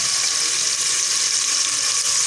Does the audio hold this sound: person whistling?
no